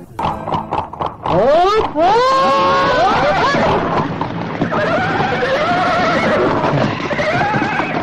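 A horse neighs loudly and nearby in a radio drama scene, a long, shaky whinny that climbs and wavers, with faint commotion and possible hoof sounds underneath.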